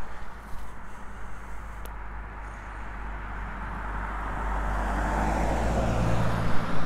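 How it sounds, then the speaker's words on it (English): Road traffic passes a roadside cemetery in Tunnel Hill, Georgia: a steady, broad rumble of vehicles that swells louder toward the end, with no one talking. "since I'm also on the side of the road, there is a lot of traffic coming through"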